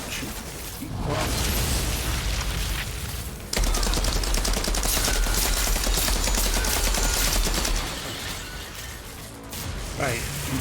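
Dense, continuous gunfire rattles through an Outriders boss fight against Gauss on a Pyromancer run, loud bursts layered with explosions and game effects, and a voice speaks over it.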